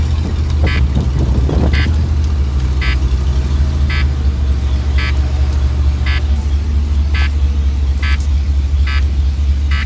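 A GMC Yukon engine drones low and steady while pulling a 3/4 ton Chevy truck, with a brief louder rumble early on and a repeating high beep or chime sounding about once a second.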